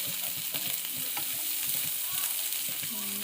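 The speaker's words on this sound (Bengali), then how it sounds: "এবার এটাকে হালকা করে ভেজে নেব।" Gentle, continuous sizzling of a fish roe fritter mixture with cumin frying in a pan, with soft stirring scrapes and light crackle close by and no talking.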